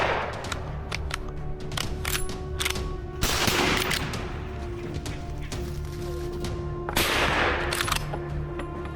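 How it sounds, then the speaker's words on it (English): High-powered rifles fire during a wild boar hunt in France: loud, close, sharp reports come in rapid irregular volleys, with denser bursts standing out over constant rumbling noise. "High-powered rifles like the D3-in-1 Winchester bring down large boars."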